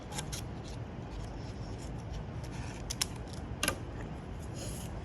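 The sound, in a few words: cutting away a paper fold for bookbinding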